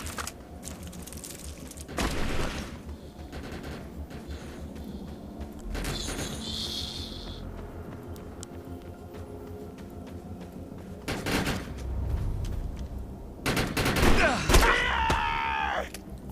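Gunfire rings out in the video game Defiance, with several sharp bursts of shots spread across the scene over a steady background hum, and a louder flurry of firing near the end.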